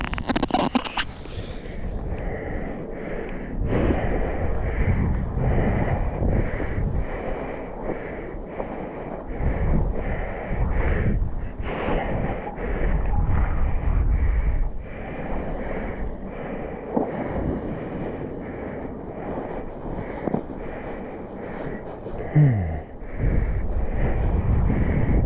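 Gusty outdoor wind during parawing practice roars and buffets against the microphone in uneven surges, loud and continuous with rising and falling gusts and no talk.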